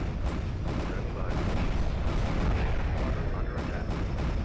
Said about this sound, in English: Those heavy ion cannons will do some major damage to us.